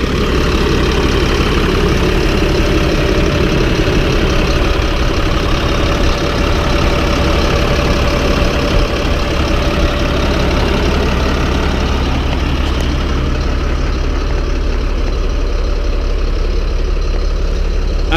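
A Cat diesel engine in a Freightliner M2 flatbed truck idles after a hot drive, cooling down. It gives a loud, steady, close rumble that holds unbroken throughout, with no voices.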